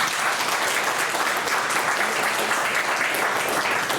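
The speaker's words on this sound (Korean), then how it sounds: "박수 한번 하겠습니다." Steady applause from a church congregation at a denomination's New Year ceremony, dense clapping filling the room evenly for about four seconds with no break.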